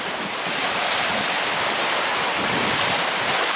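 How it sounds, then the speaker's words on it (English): Choppy lake waves starting to whitecap, splashing and hissing loudly and steadily with wind buffeting the microphone, heard up close from a small fishing boat on a big lake. "Waves are starting to white cap out here."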